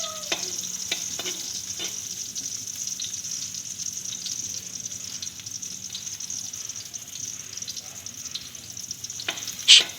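Onions sauté quietly in a pan for a budget sardine dish, a soft, even sizzle with a few light clicks of a utensil and a brief louder clatter near the end.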